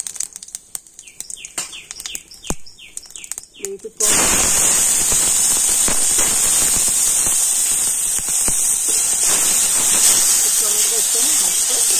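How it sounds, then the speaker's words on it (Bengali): Whole cumin seeds dropped into hot mustard oil: after a few seconds of quiet clinks and chirpy background, a sudden loud, steady hissing sizzle begins and holds to the end, close up. "তেল গরম হয়ে গিয়েছে, তো তেলের উপর দিয়ে দিচ্ছি অল্প একটু গোটা জিরে"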